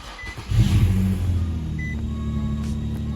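An Infiniti G35 Coupe cranks and starts after a camshaft sensor replacement, with a short loud burst as it fires. The engine then settles into a steady low idle hum up close.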